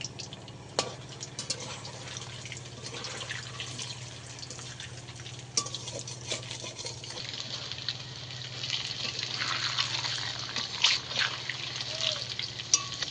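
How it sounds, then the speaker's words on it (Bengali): Banana flower balls deep-frying in hot oil, a constant crackling sizzle that swells louder in the later part, with scattered spoon stirs and clinks against the pan. "একটু এইভাবে ঘুরিয়ে ঘুরিয়ে ভেজে নিতে হবে।"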